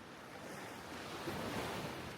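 Ocean waves wash steadily onto a beach in a continuous soft roar, with a slight swell of surf partway through and some wind against the microphone.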